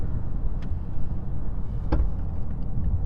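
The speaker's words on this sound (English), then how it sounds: "Gonna give her a little bit of power here." A 2022 Ford Maverick XL front-wheel-drive hybrid pickup accelerates, a steady low road and drivetrain rumble heard from inside the cab, with a brief faint click partway through and no talk.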